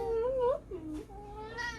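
A house cat meowing in a kitchen, a drawn-out whiny meow followed by a shorter rising one, close and fairly soft, with faint background noise.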